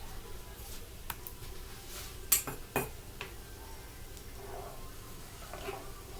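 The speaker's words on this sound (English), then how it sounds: "Let's give that a good little stir around." A spoon stirring rice in a cooking pot for cheesy Mexican rice, a few faint scrapes and light metallic clinks against the pot, a couple sharper taps in the middle, with quiet room noise.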